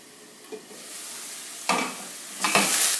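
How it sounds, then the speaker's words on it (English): Onions brown in a hot pan, a soft steady sizzle broken by three louder stirring scrapes and bursts of frying. "The onions are browning up nicely."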